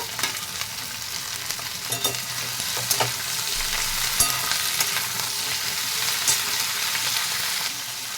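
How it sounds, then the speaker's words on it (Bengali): Mixed vegetables and beans fry in a pan for a Bengali pui bhitoli chachodi, giving a loud, steady sizzle with occasional scraping stirs and no voices. "এইসব সবজিগুলো দিয়ে দেবো, দিয়ে ভালো করে ভেজে নেব।"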